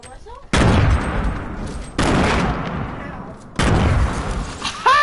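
Bursts of suppressed SMG fire in Fortnite, three dense rattling volleys about a second and a half each, close and loud, separated by brief pauses.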